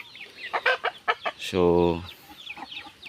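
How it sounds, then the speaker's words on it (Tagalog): Hungry farm chickens on a small rural poultry farm cluck around a longer drawn-out call, fairly close, while someone speaks briefly over them. "yun yung mga manok natin mga boss, oh. Nakaabang na dahil gutom na sila."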